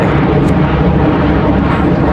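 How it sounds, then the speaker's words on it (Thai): A low-flying airplane on its landing approach to Don Mueang airport gives a steady, loud, broad engine roar that continues unbroken with no voices. "อันนี้คือเครื่องกำลังแลนดิ้งไปดอนเมืองนะ"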